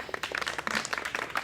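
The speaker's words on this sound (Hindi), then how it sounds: "रतनलाल सर के लिए भी एक ताली" An audience claps in applause for Ratanlal sir at a Bahujan YouTubers meet, a dense burst of many hands, close and lively, through the short stretch.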